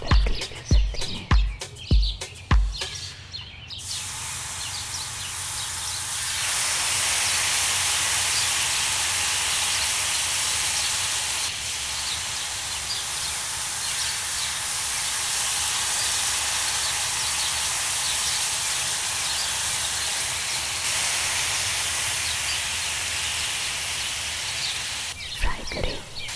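Chicken cheese nuggets deep frying in oil, a loud hissing sizzle that swells after a few opening knocks and then holds steady and close for a long stretch.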